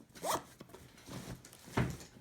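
Zipper on a 5.11 Rush 24 backpack pulled in three quick, close rasping strokes, quiet and alone.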